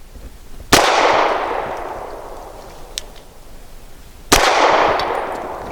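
An Archon Type B pistol fires two loud, sharp shots about three and a half seconds apart, each followed by a long ringing tail, with a faint clink between them.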